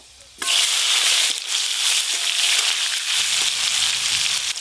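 Five-spice seeds, a dried red chilli and chopped tomato hit hot mustard oil with a sudden loud sizzle that keeps hissing and crackling steadily to the end, with no voices.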